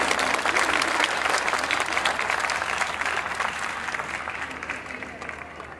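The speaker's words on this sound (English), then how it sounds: "Parents, I think the guests deserve a louder round of applause." Sustained applause from parents at a school annual day, honouring the guests: a dense, even wash of clapping that starts full and slowly eases off over several seconds.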